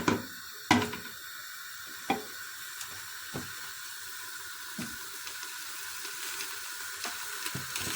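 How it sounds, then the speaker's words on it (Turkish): Water poured into a cooking pot of bulgur makes a steady rushing hiss, with a few sharp knocks near the start and faint clinks later. It is close and fairly quiet, and no one speaks. "Şimdi suyunu koyuyorum arkadaşlar."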